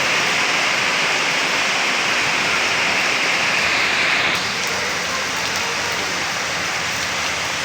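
Steady, dense rain pouring down in Butwal, Nepal, a loud continuous hiss close by that eases slightly partway through, with no voices.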